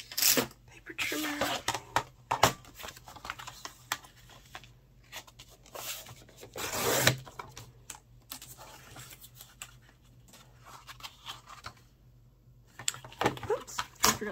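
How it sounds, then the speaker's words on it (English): A paper trimmer slices paper for a handmade journal cover in a quiet craft session, giving intermittent close scraping and sliding strokes with papery rustles and pauses between cuts. "paper trimmer"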